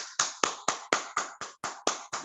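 Hands clap at a welcome for a speaker at a seminar, about nine crisp, evenly spaced claps in a steady rhythm, close and moderately loud, with no talking.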